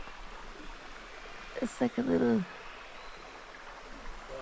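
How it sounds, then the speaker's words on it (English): A creek runs past a creek crossing on a forest walk toward a hidden waterfall, its steady soft rushing wash heard throughout while a person briefly speaks over it. "I'm going to put my stopwatch on from the very first creek crossing, which looks like this"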